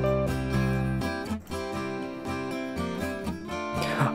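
Acoustic guitars, including a nylon-string guitar, play back within a studio music mix, strummed rhythmically over bass and other instruments at steady volume.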